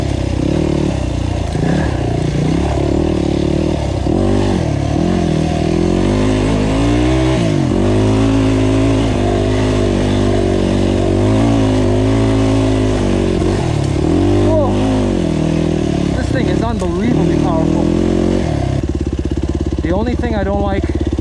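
GAS GAS EC250F enduro motorcycle ridden on a trail, its engine droning steadily and revving up and down throughout, loud and close, with occasional clatter.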